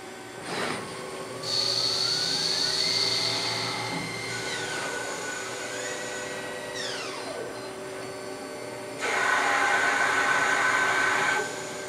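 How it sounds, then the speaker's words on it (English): Ganesh 32CS Swiss turn machine running a CAMWorks program, with whirring spindle and axis motions that rise and fall in pitch, steady machine hum beneath, and bursts of louder high hissing coolant or cutting noise at the start and near the end. "I'm going to show you a video on it actually running on a Ganesh 32CS machine"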